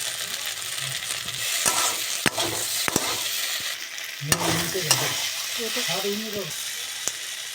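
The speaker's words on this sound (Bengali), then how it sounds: "স্বাদ মতো লবণ ভালো করে ভাজবো আর একটু চিনি দিয়ে দেবো" Brinjal frying in a pan with turmeric and salt, stirred and turned: a constant close sizzle with scattered scraping and ratcheting spoon strokes, and a voice speaking in the background in places.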